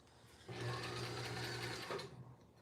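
Sewing machine stitching through several layers of puppet fabric: a steady, fast mechanical whirr lasting about a second and a half before stopping, fairly quiet and close.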